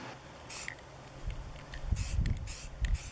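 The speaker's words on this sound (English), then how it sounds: "I took it outside to spray all the routed areas." Short hissing bursts of spray paint are applied to the routed areas of a juniper wood sign, several quick close spurts separated by pauses, with faint handling thumps between them.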